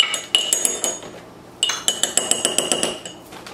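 A metal spoon clinking against a mug while mug cake ingredients are stirred, bright rhythmic taps in two runs separated by a short pause, close and clear.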